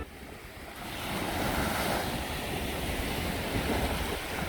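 Gentle waves washing onto a long, fine-sand beach near Puerto Vallarta, a soft, steady surf wash swelling slightly, with light wind noise and no voices.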